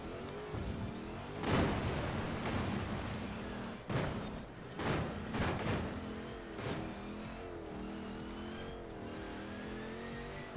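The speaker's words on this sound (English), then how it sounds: "I'm not sure what that whining noise is on this thing though. Doesn't sound like an engine. Kind of sounds a little like a supercharger." Engine and supercharger-like whine from a car being driven in Forza Horizon 4 on a slow, low-speed technical course, a steady loud drone with several short bursts of tire squeal and revving, heard continuously without talk.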